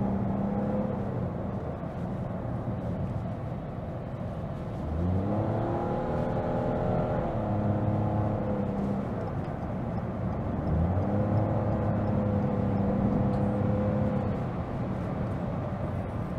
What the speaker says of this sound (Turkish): En ufak bir dokunmanızda motor devri hemen yükseliyor.